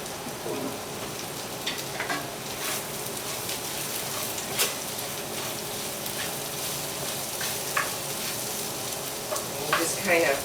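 Italian sausage frying in a pan for seafood paella, with red pepper in the mix, gives off a steady close sizzle and crackle throughout, broken by occasional louder pops and stirring scrapes.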